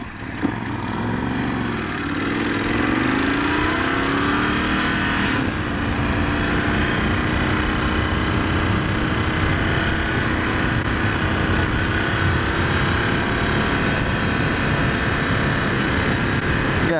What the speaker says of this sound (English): I gotta say, the stock exhaust sounds pretty good.